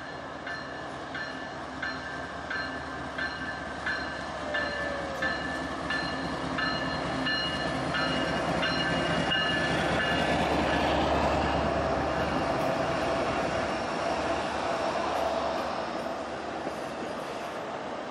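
A freight train several miles long rumbles past a railway work site steadily for a long stretch, wheels clacking and squealing on the rails, with faint tonal whines early on.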